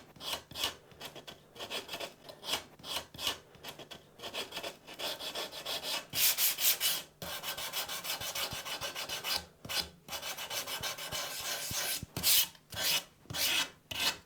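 Close rasping strokes of sandpaper, around 240 grit, on the wooden neck of a Squier Stratocaster guitar, rubbing back and forth in an uneven rhythm with short pauses between passes.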